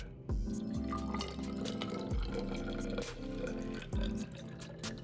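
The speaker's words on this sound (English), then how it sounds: "So let me get my graduated cylinder and measure out 100 milliliters." 12% hydrogen peroxide poured into a graduated cylinder, a soft liquid trickle and bubbling fill with a few small knocks of the glass, close and quiet.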